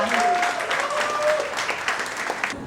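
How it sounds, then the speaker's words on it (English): Dense audience applause at a mixology and bartending flair camp fills the clip: many hands clapping at once, steady and fairly loud, with no voices standing out. "huge round of applause for Omkar."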